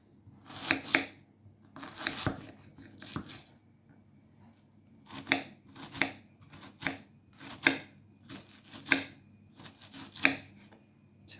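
A knife finely chops an onion on a board, close crisp bursts of quick cuts with pauses between them, about eight separate runs of rapid chopping.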